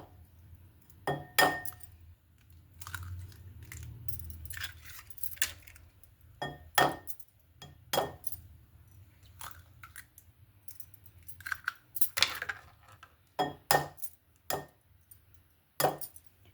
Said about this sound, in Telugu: ఇప్పుడు ఇందులోనే ఎగ్స్ కొట్టేసుకుని వేసేసుకుందాం.